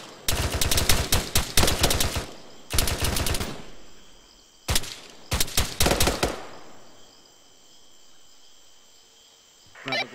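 Weapons opening fire in a special operations direct action assault on an island, with loud close bursts of rapid automatic gunfire, several separate volleys with short gaps and a quieter tail at the end.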